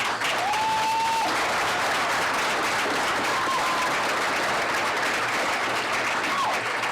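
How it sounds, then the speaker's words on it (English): Sustained, dense applause fills the room from a debate audience, steady and loud throughout with no pauses. "kindly give them a hearty round of applause"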